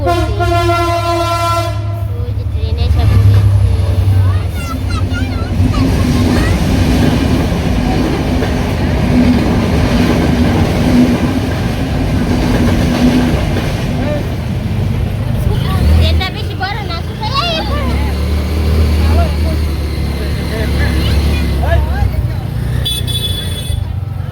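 A train passes close by with loud rumbling and clattering wheels, its horn sounding at the start and again faintly near the end, while voices talk over it.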